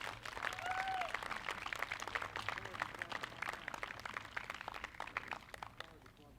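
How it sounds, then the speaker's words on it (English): A crowd at an outdoor Veterans Day ceremony gives a round of applause for Cub Scouts and Boy Scouts, sustained clapping at a modest distance, with a brief whistle or cheer early on. "Can we give them a little bit of a round of applause?"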